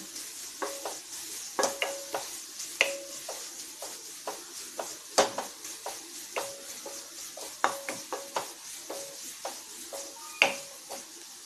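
Grated carrot being stir-fried in a pan for a stuffed banana sweet, a soft sizzle broken by frequent close, sharp scrapes and taps of a spatula against the pan in an uneven rhythm.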